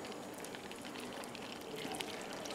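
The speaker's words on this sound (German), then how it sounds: "siehst du das, was jetzt so spritzt, ist das Wasser" Dense crackling spatter of water and whey popping in a hot frying pan while cooking spring chicken, continuous and close with scattered sharp pops throughout.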